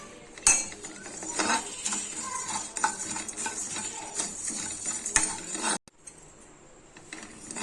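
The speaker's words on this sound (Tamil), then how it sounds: "இப்போ இந்த ஏலக்காயை சேர்த்து வறுத்து எடுத்துக்கலாங்க" Cardamom and coriander seeds being dry-roasted in a pan for dry ginger coffee, a busy clinking and scraping of utensil against metal with rattling seeds, stopping abruptly near the end.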